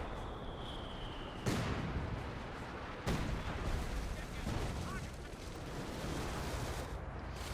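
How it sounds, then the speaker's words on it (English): Howitzer and mortar artillery fire in the real-time strategy game Company of Heroes 2, with a few heavy booms at intervals over a dense, rumbling battle background. "Howitzer also firing. He's actually firing everything at it."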